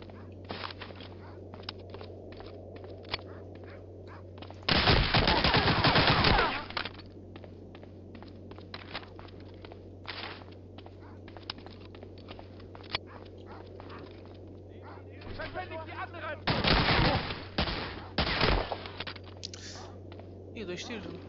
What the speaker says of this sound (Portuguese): Ih, dois tiros.